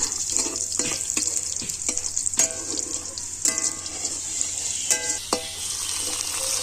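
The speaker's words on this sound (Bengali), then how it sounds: "রসুনটাকে ব্রাউন হওয়া পর্যন্ত ভাজতে হবে" Garlic fries in oil in a pan, browning with a continuous sizzle broken by several sharp clinks and scrapes of a utensil against the pan.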